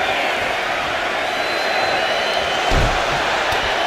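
A dense, steady roar of a large arena crowd cheering in the WWE 2K25 wrestling video game during a Royal Rumble match, loud and continuous, with a brief swell near the end.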